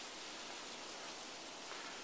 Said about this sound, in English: kind of a hard rain falling right now